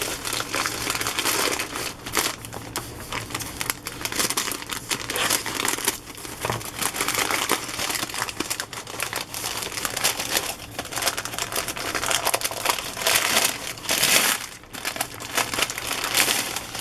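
Handmade wrapping paper around a journal crinkles and rustles continuously up close as it is unwrapped, with irregular bursts of crumpling and tearing throughout.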